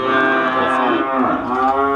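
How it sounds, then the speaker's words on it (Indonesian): Limousin and Simmental cattle on a farm give a long, loud, close moo, a deep harmonic bellow lasting about two seconds with a slight dip in pitch midway. "Kalau ini sapi-sapi limosin, simetal"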